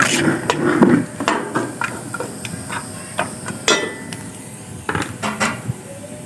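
Half a kilo of goat meat going into a metal cooking pot for an aloo matar salan, heard as close clanks, knocks and scrapes of metal with a faint steamy hiss underneath.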